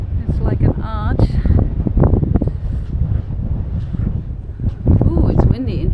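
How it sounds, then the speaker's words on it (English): Wind gusts roar into the microphone inside a high stone arch church, a heavy continuous rumble with people talking over it throughout. "Ooh, it's windy in here."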